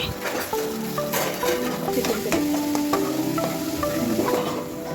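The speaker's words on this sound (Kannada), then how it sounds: "ನಂತರ ಟೊಮೊಟೊ ಪ್ಯೂರಿ ಹಾಕ್ಕೊಂಡು ಫ್ರೈ ಮಾಡ್ಕೊಳ್ತೀನಿ" Tomato puree frying in a pan for a mushroom masala, a soft sizzle with scattered clinks of a utensil against the pan, close and steady.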